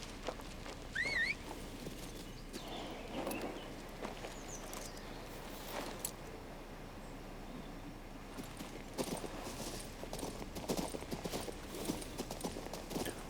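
Horse hooves clip-clop steadily in the fantasy video game King's Bounty II, a continuous rhythmic trot heard up close over faint outdoor ambience, with a brief bird chirp early on and no talking.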